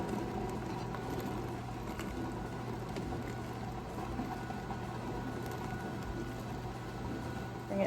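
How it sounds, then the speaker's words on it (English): Muscadine jelly at a rolling boil in a pot, a steady dense bubbling and churning that holds at an even level throughout with a low constant hum beneath, no voices. "Bring it back to a rolling boil."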